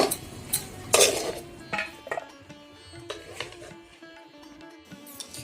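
Bread singara filling being stirred in a pan after tomato sauce, garam masala and chopped coriander are added, with repeated close utensil scrapes and clinks against the pan, some sharper knocks, and no talking.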